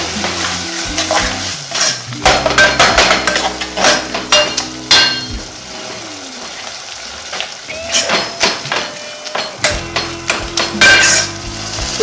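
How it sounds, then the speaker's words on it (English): Tomato puree being stirred in a pan while it sizzles and fries, with repeated scraping and clinking of a utensil against the pan at close range, irregular strokes throughout, no talking. "We'll stir and keep stirring so as to get a nice thick puree."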